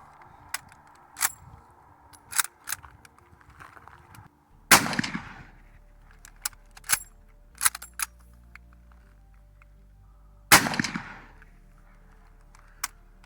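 Mosin Nagant 91/30 bolt-action rifle firing, two loud sharp gunshots several seconds apart with ringing decay, close by, between quieter clicks and handling noises at an outdoor range.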